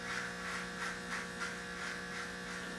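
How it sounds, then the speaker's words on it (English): Electric hair clippers buzz steadily while shaving a head against the grain, a close, continuous hum with slight pulsing as the blades pass over the scalp. "shaving against the grain to make sure I can get as close as possible"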